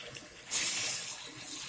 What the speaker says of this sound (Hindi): 1 कप पानी डालूंगी